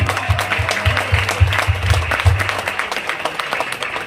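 Audience applause at a special session with Gautam Bali, welcoming new members. Steady clapping fills the whole stretch with a low hum underneath, and a few louder claps stand out.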